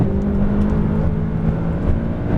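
Race car engine pulling hard at full throttle on a track, a loud, steady, close droning roar with a harmonic whine and no voices.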